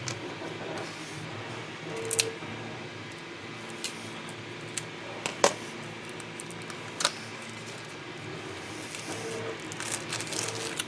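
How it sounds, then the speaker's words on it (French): A 3D printer working in a room, giving off a soft steady hum with scattered small ticks and clicks at irregular intervals, quiet and continuous with no talk. "c'est mon imprimante 3D qui est en train d'imprimer"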